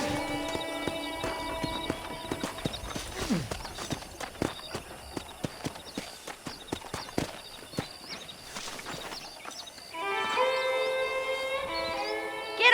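Horse hooves clip-clop steadily on the ground in Red Dead Redemption on PS5, a run of close, evenly spaced hoofbeats over a soft game background of sustained music tones.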